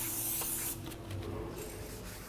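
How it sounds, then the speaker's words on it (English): Brake cleaner sprays in a steady hiss onto the braking surface of a brand new front brake rotor on a 2012-2017 Toyota Camry, with one strong burst followed by a slightly softer continuing spray, close and alone. "it's important to make sure you clean down the braking surface"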